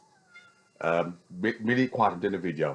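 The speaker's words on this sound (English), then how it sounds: "That's my cat" A house cat lets out a few clear meows close by, overlapping a man's speech.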